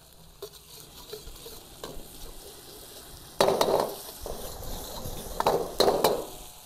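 Chili paste sizzles in a hot pan while a utensil stirs and scrapes, with bursts of louder frying as it's pushed around.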